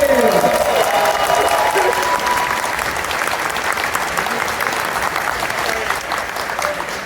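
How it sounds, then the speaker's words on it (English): A large convention crowd at the ConFuzzled 2024 opening ceremony gives Talon a sustained roar of applause, dense and loud throughout, with voices mixed into the clapping. "Big round of applause for Talon, please."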